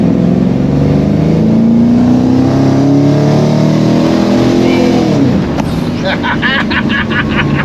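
A Holden HT fitted with a swapped-in V8 accelerating: a steady, loud engine drone that rises in pitch and then drops as it shifts, with a person talking over it.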